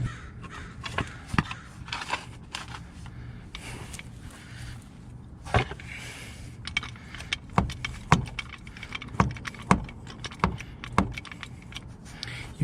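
A floor jack is pumped up beneath a Mercedes Sprinter T1N van, giving a series of sharp metallic clicks and clanks at an uneven rhythm, close by, over a low steady background hum.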